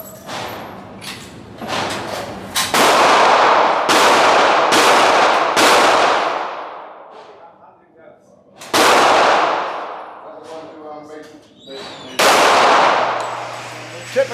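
Pistol shots with a Glock at an outdoor shooting range, several loud sharp reports with ringing decay, spaced irregularly across the span, some in quick pairs and others seconds apart.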